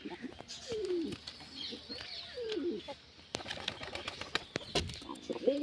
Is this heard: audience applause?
no